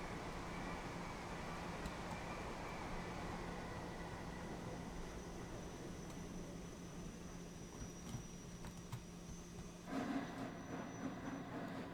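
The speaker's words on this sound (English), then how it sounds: "Alright, waiting for the train to pass." Train rumbling past in the rail simulator Train Sim World 4 on the East Coast Main Line, a steady broadband roar holding for the whole stretch with a brief swell near the end, no talk over it.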